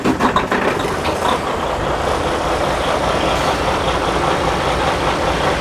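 Truck diesel engine running at a repair shop, a steady low rumbling idle, loud and close, with a brief rougher burst at the start and no talking.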